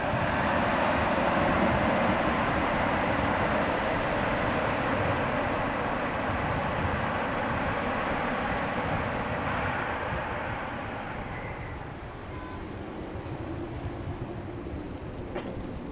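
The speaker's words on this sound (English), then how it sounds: "There goes an American Airlines Dreamliner coming out of the hangar for destination unknown." An American Airlines Boeing Dreamliner rolls out of a hangar at Dallas/Fort Worth Airport at night, a steady, moderately distant engine rumble and whine that slowly eases off toward the end.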